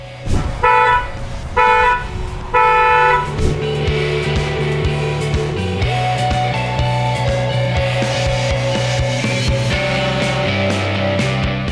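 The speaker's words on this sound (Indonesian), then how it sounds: "gimana suara klaksonnya ketika sudah diganti dengan superior fan dari Auto Project" A Superior fan horn fitted to a Wuling Air EV blares in three short loud honks, then sounds in a long continuous blast with shifting tone, close and alone.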